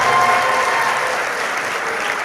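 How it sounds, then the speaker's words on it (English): Sustained applause from an audience at a graduation ceremony, a dense steady roar of many hands clapping together, loud and close throughout. "I think another round of applause to the founder"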